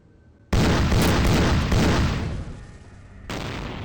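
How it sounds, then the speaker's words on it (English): Shotgun blasting in Vampire: The Masquerade – Bloodlines, a loud, booming burst that cuts in suddenly and rolls on as a sustained roar, then a second blast near the end, with no talking. "Yeah, nice shotgun."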